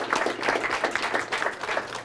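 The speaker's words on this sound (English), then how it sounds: "I think that deserves a round of applause." Audience applause at a retirement party, a dense steady patter of many hands clapping close by for about two seconds with no talk over it.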